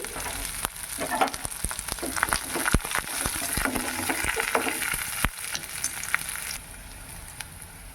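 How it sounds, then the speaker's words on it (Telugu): Thinly sliced onions fry in oil in a pan for a brinjal gravy, crackling and sizzling steadily up close, with frequent sharp stirring clicks and scrapes before the frying eases toward the end. "సన్నగా కట్ చేసి ఎర్రగడ్డలు అన్నీ వేసి వేయించుకోవాలి"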